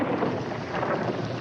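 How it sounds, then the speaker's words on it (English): A sitcom thunderstorm sound effect: a low rumble of thunder rolling under steady, hissing rainfall, brief and moderately loud with no one talking. "it looks like we're in for a real storm"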